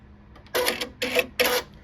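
A Brother PR680W six-needle embroidery machine runs its automatic needle threader: three short, bright mechanical whirring bursts with clicks, evenly spaced over under two seconds, close and clear with no talk.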